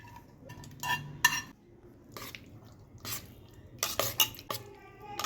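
Ghee-fried cashews are stirred into double ka meetha with a metal spoon. Close clinks and scrapes against the pan come in bursts, with soft, wet squishing between them.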